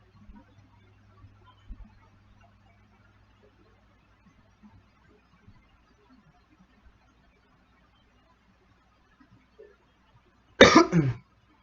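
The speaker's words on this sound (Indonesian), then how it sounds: "batuk-batuk terus" A short burst of coughing during a calculus lecture, a couple of harsh coughs close together near the end, after a long stretch of near silence.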